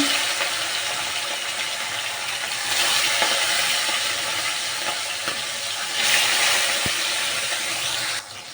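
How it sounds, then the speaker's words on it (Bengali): Fish fry in hot oil with a steady, loud broadband hiss that swells in bursts as pieces settle into the pan, close and continuous without any talk. "আমি মাছগুলো ভেজে নেই"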